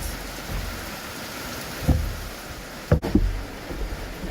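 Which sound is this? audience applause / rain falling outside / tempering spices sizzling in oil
rain falling outside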